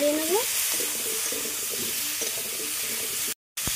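Mango chutney with salt and turmeric is stirred in a pan, a soft wet frying hiss with faint scraping strokes, ending in a brief cutoff.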